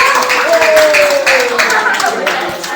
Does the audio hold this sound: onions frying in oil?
no